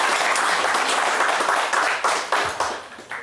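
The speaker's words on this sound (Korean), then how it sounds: "큰 박수로 부탁드립니다" A big round of applause greets the chairman of the Kim Dae-jung Foundation at a lecture in Seongnam, a hall full of dense clapping that swells and then tapers off in uneven bursts.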